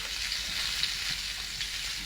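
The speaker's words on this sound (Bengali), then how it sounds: "এবার খিচুড়ির জন্য আলু কুমড়ো কেটে রেখেছি, এটা ভেজে নেব" Cut potato and pumpkin for khichuri fry in hot oil with a steady, dense sizzle, close and continuous, with no voices.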